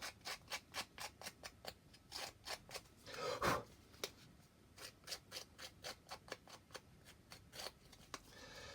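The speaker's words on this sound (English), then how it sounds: "So what I'm going to do, where's my scissors? I'm going to scruff the edge." Scissor blades scraped along the edge of a photo print to scruff it, making a rapid, even series of crisp rasping strokes, close and distinct, with one longer heavier scrape partway through.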